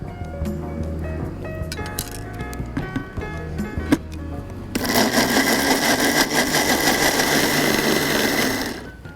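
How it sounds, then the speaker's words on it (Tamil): A mixer blender whirs loudly and steadily for several seconds while blending a fig smoothie, following quieter kitchen clatter and handling sounds. "இப்போ இதை வந்து நல்லா மிக்சியில் பிளெண்ட் பண்ணிடுறேன்"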